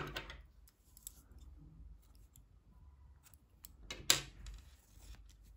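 Scissors cut knitting yarn in a quiet room: a few faint metallic snips and clicks, with one sharper close snip near the end.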